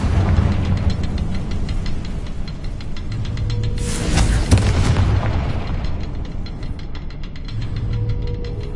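A Confringo spell blast in Hogwarts Legacy, a booming fiery burst midway that stands out over a dense, continuous game soundscape of rumbling and crackling effects.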